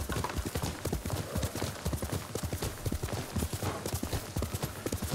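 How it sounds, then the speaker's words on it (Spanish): Rapid hoofbeats of a horse in Ghost of Tsushima clip-clop in a steady galloping rhythm, loud and close, with no voices over them. "Venga, vamos a llamar al caballo y vamos a coger"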